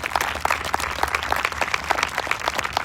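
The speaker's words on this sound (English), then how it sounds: "I want to give you all a round of applause for everything you've been through" A high school graduation audience in Weehawken gives a round of applause, a dense, steady patter of many hands clapping at once, sustained and fairly loud with a low hum underneath.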